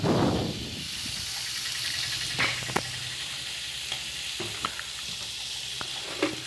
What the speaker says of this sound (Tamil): தக்காளி எல்லாம் போட்டு நல்லா வதக்கிடணும்.